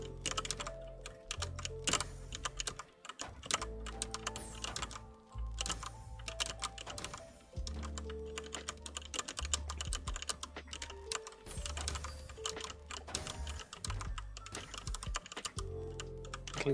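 A computer keyboard clatters with rapid, irregular key presses during fast TETR.IO play, the clicks dense and continuous with no talk over a steady low background of game music.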